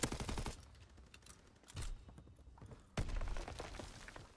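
A rapid-fire gun in the video game Call of Duty WWII rattles out quick bursts of shots in three separate volleys, fairly faint, with short gaps between bursts and no talking.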